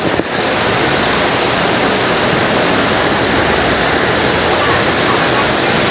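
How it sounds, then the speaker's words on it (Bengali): Heavy rain pours down in a dense, steady hiss that stays loud and unbroken throughout, close and enveloping. "প্রচুর বৃষ্টি হইতেছে"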